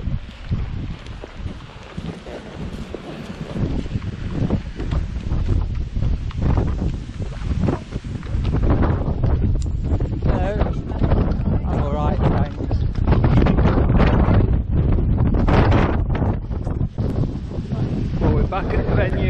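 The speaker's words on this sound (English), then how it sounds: "Quite a strong wind blowing." Strong wind at an outdoor endurance horse riding venue at Revesby Park roars and buffets the microphone continuously, loud and close, with people talking now and then.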